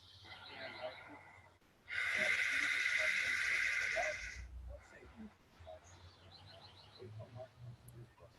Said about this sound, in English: ujjayi or ocean sounding breath